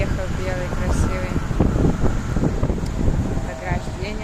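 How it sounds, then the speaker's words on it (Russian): Strong wind blows across a giant roadside puddle, pushing up small waves. A steady roar with buffeting rumble on the microphone continues throughout, with no clear break. "Ветер дует, как будто как море или река такая."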